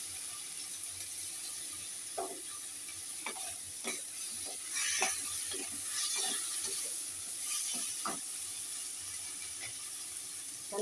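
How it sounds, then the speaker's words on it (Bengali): Ginger, garlic and onion paste gravy stirred in a pan, repeated scraping strokes of a spoon over a constant soft sizzle, close and fairly quiet; no talk. "এবার এটা দিয়ে আবার একটু নাড়বো, গ্রেভিটা যাতে একটু ঘন ঘন হয়"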